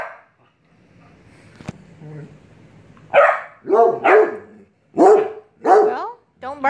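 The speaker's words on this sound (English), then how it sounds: "Well, don't bark at me, Ash." A dog barks during play with a cat indoors, several close, loud barks in an uneven burst after a quieter stretch of rustling and a sharp knock.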